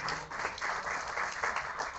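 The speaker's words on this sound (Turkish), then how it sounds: "onlara da bir alkış istiyorum" Audience applause at an Istanbul nightlife-themed evening event, a steady dense wash of clapping throughout, moderately distant and even in level.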